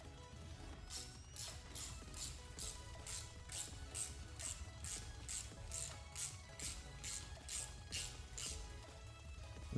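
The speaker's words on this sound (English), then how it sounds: "Now I'm going to go in with my 8mm socket." An 8mm socket ratchet tightens a camshaft position sensor screw on a 2014-2020 Ford Fusion 1.5L, giving a steady run of quiet, evenly spaced clicks, close and faint.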